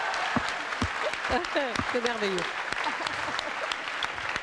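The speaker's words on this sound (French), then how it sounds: "Applaudissements." A studio audience claps at a television talk show, a dense, steady applause running throughout while people speak over it.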